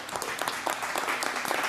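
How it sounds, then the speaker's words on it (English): Brief, moderately faint applause from an audience at a press conference, a scattered patter of clapping hands with no talking. "How can you clap for that, people?"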